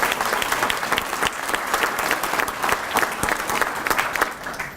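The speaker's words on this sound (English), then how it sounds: "Give everybody a round of applause for our town officials." An inauguration audience gives a round of applause for town officials, a dense, steady clatter of many hands clapping that holds at an even level throughout, with no talking over it.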